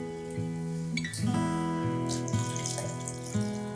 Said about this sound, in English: I am filling up this bottle here